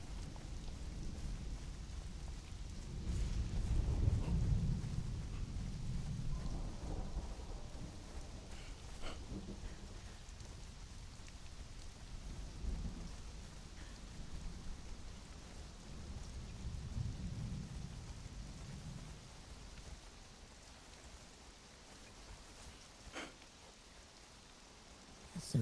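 A video game thunderstorm with steady rain hissing throughout, a deep rumble of thunder rolling in early, then softer distant rumbles fading under the downpour.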